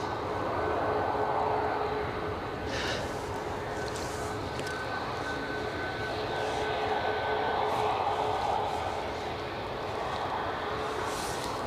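Airliner jet engine roar at Edinburgh airport, a steady distant rumble with broad whooshing noise that swells and eases slightly over the whole stretch, no voices.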